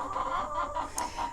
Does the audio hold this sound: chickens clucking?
yes